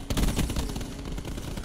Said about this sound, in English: the smell of gunfire